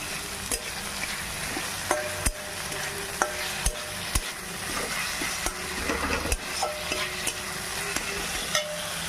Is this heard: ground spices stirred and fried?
yes